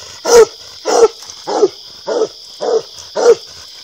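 A coonhound puppy barks on a coon drag trail, six evenly spaced, close and loud barks about every half second, each a sharp yelping bark, with a steady high-pitched hiss underneath and no talking.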